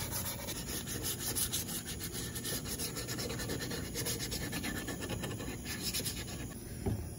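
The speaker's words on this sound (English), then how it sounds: "You might have to use some hand sandpaper on some spots that are a little bit more difficult to sand" Sandpaper rubs by hand along a wooden acoustic guitar neck, a steady, close, continuous scratchy hiss with faint rhythmic strokes and no talk.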